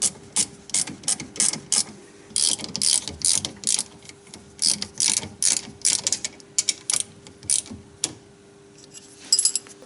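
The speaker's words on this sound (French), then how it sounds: "Tu remets ta clé de 17, ta douille de 13" A ratchet wrench clicks in repeated quick bursts while tightening the front brake caliper bolts on a car, close and crisp with short pauses between strokes.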